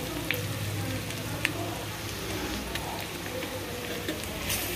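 Chopped onions sizzling in a pan, a steady soft crackle and hiss with occasional sharper pops and a faint scrape of stirring.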